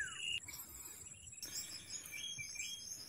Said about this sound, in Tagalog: Nasasabayan pa kang garo nagkakantang huni kan mga gamgam.